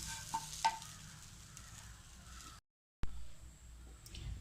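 Ration rice dry-roasting in a pan while being stirred, heard as soft scraping and a faint, light sizzle with a couple of small clinks and a short silent gap.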